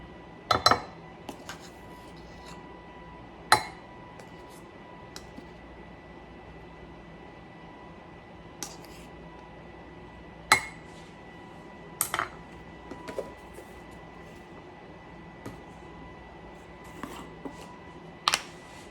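Nested magnetic metal measuring spoons clink and clatter in scattered bright taps and jingles with quiet gaps between, close by in a quiet kitchen.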